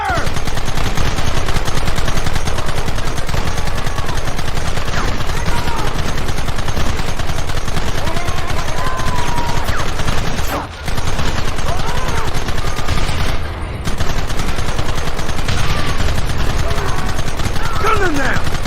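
A Red Dead Redemption shootout fills the scene with sustained, loud gunfire, with rapid overlapping shots and rattling volleys nearly unbroken for almost twenty seconds, briefly dipping twice, with shouted voices mixed in.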